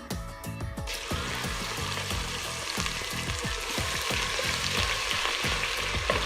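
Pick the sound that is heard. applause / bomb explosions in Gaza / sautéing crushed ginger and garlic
sautéing crushed ginger and garlic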